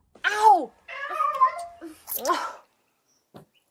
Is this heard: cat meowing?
yes